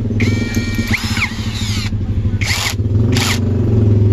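A brushless cordless drill whirs in a long burst, then gives two short spins as the chuck is tightened on a drill bit, over a steady low hum nearby.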